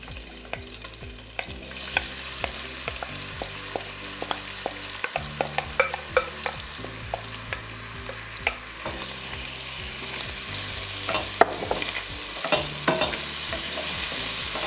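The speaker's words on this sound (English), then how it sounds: "Now that our bacon is starting to crisp up a little bit, we're going to add in those onions and peppers." Onions and peppers frying with bacon in a pan, a steady close sizzle broken by frequent sharp taps and scrapes of a utensil stirring, with no voices.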